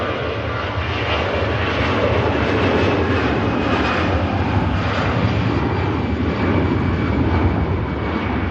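A TUI airliner taxiing at Manchester Airport gives a loud, steady jet-engine roar and whine that holds evenly throughout without fading.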